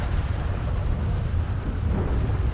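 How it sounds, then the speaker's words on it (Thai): Heavy rain pours steadily in GTA V, with a deep continuous rumble that suggests thunder, dense and fairly loud throughout, with no talk. "ทำไมวันนี้ฝนตกแรงอย่างนี้เนี่ย"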